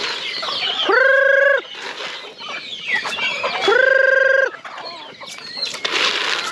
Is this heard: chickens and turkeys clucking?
yes